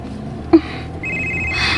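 A mobile phone rings with a brief electronic tone that starts partway through, following a short knock, in an otherwise quiet indoor scene.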